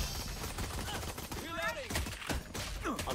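Video game gunfire from a competitive ranked shooter crackles in a quick burst of shots under a player's talking, with the game's other effects mixed in.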